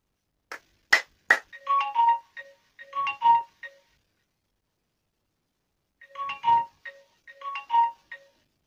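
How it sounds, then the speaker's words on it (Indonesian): A phone's clap-triggered ringtone alert sounds as bright chiming melodic bursts, preceded by three sharp claps, with a pause of silence before the tune repeats, close and clear with no talk. "HP-nya secara otomatis menyala atau hidup ketika kita bertepuk tangan 3 kali."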